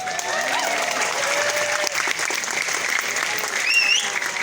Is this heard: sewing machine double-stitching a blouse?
no